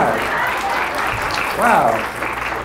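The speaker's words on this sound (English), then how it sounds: "give her a round of applause" A small group applauds and exclaims over a gift of homemade oatmeal cookies, the clapping steady and close throughout while a voice gasps in delight partway through.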